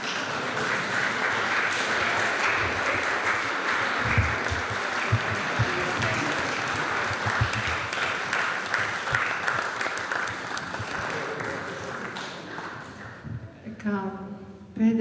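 An audience applauds at length at a Christmas book presentation, dense steady clapping filling the room for over ten seconds before thinning out as a voice begins speaking near the end.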